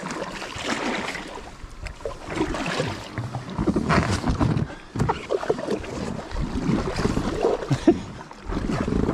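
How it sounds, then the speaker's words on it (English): Rushing water of a river rapid heard from a packraft, a broad churning wash with splashes and paddle strokes nearby, rising and falling in loudness. "oh, I can hear a rapid"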